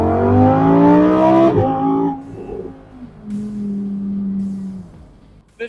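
A Lamborghini Huracan Sterrato engine revs loudly and up close, climbing in pitch, dropping sharply at a gear change, then settling into a lower steady drone before a short burst at the end.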